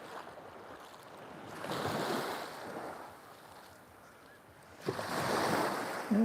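Surf rolling onto Khao Takiab beach in Thailand, a broad washing roar that swells twice and eases between, with steady wind buffeting the microphone and no voices.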